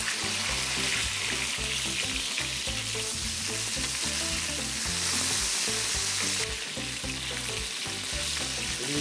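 Chicken fries in oil with a loud, close, unbroken sizzle and crackle that holds steady for several seconds over a rhythmic low thudding.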